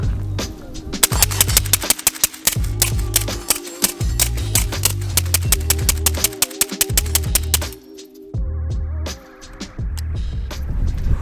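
A Rifle Dynamics 704 AK pistol emptying a full magazine, a rapid string of loud sharp shots at a fast, slightly irregular pace with brief gaps, then ringing and low outdoor rumble as firing stops.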